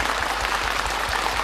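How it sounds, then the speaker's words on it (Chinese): A theatre audience claps steadily and densely for a guest stepping onstage at a 2004 Yue opera showcase, a brief, continuous burst of applause with no voices. "下面我们掌声欢迎袁老师上台和我们大家见面"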